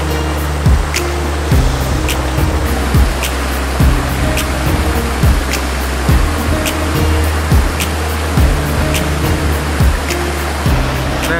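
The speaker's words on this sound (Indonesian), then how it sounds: "Sungai." River water flows at a garden park in the mountains, a loud, constant rushing roar that runs without pause, with occasional low thumps and brief clicks mixed in.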